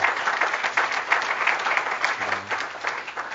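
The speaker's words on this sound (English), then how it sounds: "could we have a round of applause for them?" Steady audience applause rises and lingers at a broadband event, a dense wash of many hands clapping alone with no talk.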